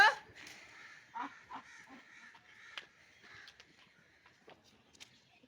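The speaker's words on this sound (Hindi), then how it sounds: "वो ये आ गया कौवा" A crow caws several times, a loud harsh call at the start followed by scattered fainter caws and other bird calls nearby, with no talk.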